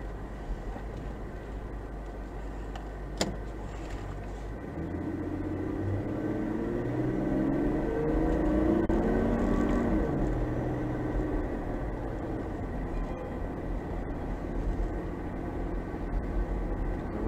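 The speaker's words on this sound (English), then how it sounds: "we're listening for that telltale rattle of the front right wheel bearing" An 80 series vehicle with a loose front right wheel bearing drives along, giving a steady, low road and engine drone that swells slightly mid-run, with a single faint click early on and no distinct rattle standing out.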